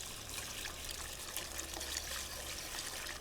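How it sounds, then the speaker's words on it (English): Hot milk, just under simmering, pours steadily into a flour-and-butter roux in a pan, a soft continuous liquid trickle and splash lasting a few seconds with no talking. "milk looks like it's hot, just under simmering. Just gonna pour it in"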